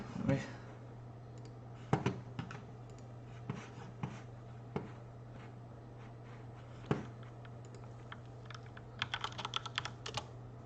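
Computer keyboard typing in scattered bursts of quiet clicks over a steady low hum, with irregular keystrokes and a denser flurry near the end, during a live painting stream.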